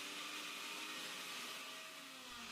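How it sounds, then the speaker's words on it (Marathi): Kitchen mixer grinder coarsely pulsing green peas, chillies, ginger and garlic: a steady, high-pitched motor whine with gritty churning, close and continuous for the whole stretch. "आपल्याला हे मिक्सरला अगदी हलकसं जाडसर फिरवून घ्यायचंय"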